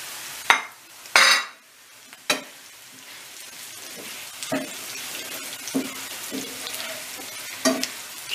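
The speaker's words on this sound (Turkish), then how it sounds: "En sonra da kızarttığımız patatesleri" Fried potatoes are poured into a hot cast-iron pan of mushroom chicken with a loud sizzle, followed by scraping stirs and scattered clinks of utensil against pan over a steady frying hiss.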